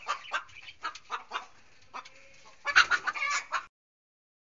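A hen clucks in short, close bursts, a run of separate clucks followed by a louder, busier cluster before falling silent.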